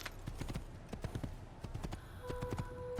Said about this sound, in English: Oh yes, we have a horse.